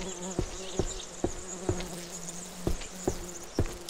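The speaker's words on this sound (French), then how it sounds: "Il y a des mouches qui me gênent, apparemment." Flies buzz in the forest of the Siren Head: Resurrection video game near a watchtower, a steady close droning hum cut by regular dull thumps about every half second.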